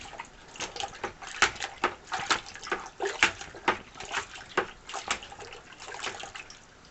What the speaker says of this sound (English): I'm going to get this stirred up in here.